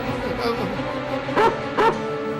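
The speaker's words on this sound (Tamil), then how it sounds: "முதல்ல நாய் அந்த பக்கம் கூட்டிட்டு போயா" A dog whimpers and gives two short yelping barks close by, over a murmuring background.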